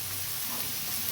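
Onions fry in a pan for aloo patties, a steady close hiss of sizzling oil filling the whole short moment without any talk.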